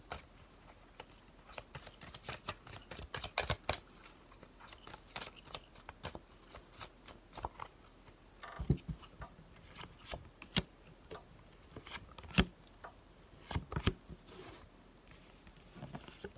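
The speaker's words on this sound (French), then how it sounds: "Je vais reposer 3 cartes," Tarot oracle cards are shuffled and laid down in a quiet room, a string of soft riffling flicks and sharp slaps of cards on a surface at an irregular pace, close and fairly faint.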